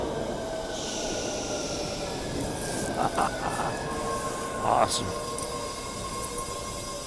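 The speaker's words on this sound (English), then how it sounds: "There's the train." A Green Line train pulls in with a steady rumble of rail cars and a couple of brief, shrill wheel squeals, while a voice speaks over it.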